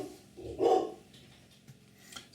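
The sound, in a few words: dog barking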